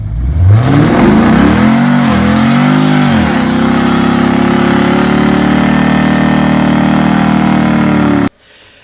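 A 2016 Chevrolet Camaro 2SS V8 revs hard up close, climbing and dropping through two or three sharp pulls before settling into a loud, steady high-rpm drone that cuts off abruptly at the end.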